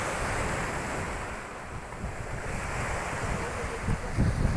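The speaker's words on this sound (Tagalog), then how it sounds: "Oh, tubig." Waves wash steadily onto a shore near a boat, a constant broad surf hiss with low rumbling swells, heavy wind buffeting the microphone and no talk over it.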